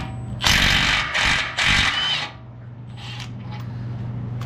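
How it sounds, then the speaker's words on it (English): Impact wrench loosening 21 mm bolts on a Ford F-150, firing in three loud, close hammering bursts, followed by a quieter steady hum and a few faint clicks. "21 millimeter with your impact wrench."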